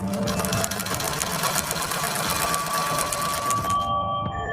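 A sewing machine runs at a steady fast stitching rhythm, close and fairly loud, then stops near the end, leaving a faint electronic tone.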